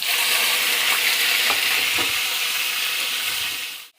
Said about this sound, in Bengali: এবার তেলের মধ্যে একটু নুন দিয়ে দেবো, দিয়ে চিকেনগুলো ছেড়ে দেবো